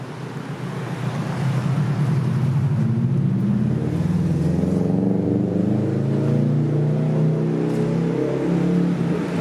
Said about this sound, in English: There's the number 2 main bus.